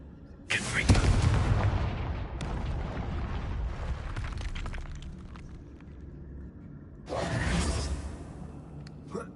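Confringo fire spell cast in the video game Hogwarts Legacy, two heavy whooshing blasts with booming rumble, the first long and loud, the second shorter near the end, over quieter game ambience.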